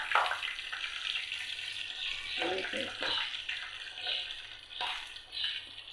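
Steady oily sizzling of nigella seeds and cumin frying in hot oil, with brief stirring scrapes partway through; close and fairly loud, no talking.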